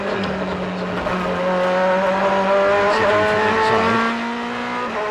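A 2008 FIA GT race car heard from onboard lapping the San Luis circuit, its engine a loud sustained drone rising and falling with shifts and corner exits, with a brief tire squeal near the end.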